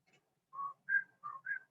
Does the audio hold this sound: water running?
no